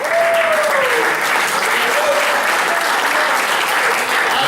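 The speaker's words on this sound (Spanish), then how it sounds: "denle un fuerte aplauso al Señor" A church congregation breaks into loud, sustained applause, dense clapping filling the room with a few voices calling out over it.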